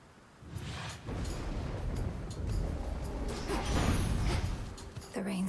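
Steady, dense rain with heavy rumbling thunder rolls on and on in the video game Hades 2, loud and unbroken across the whole stretch, with a low boom near the end.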